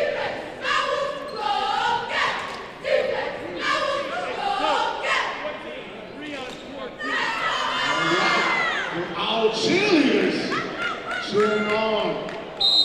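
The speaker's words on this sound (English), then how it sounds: "Cheerleaders cheering on the Hartford Public team." Cheerleaders chanting and cheering at a high school basketball game for the Hartford Public team, with loud crowd shouts and whoops building through the clip amid gym noise and bouncing.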